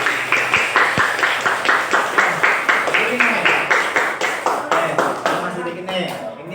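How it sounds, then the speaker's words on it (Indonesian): A classroom group gives steady rhythmic applause, a quick series of close, loud claps from several hands, fading slightly toward the end, with voices underneath. "kita kasih aplaus untuk kelompok 1"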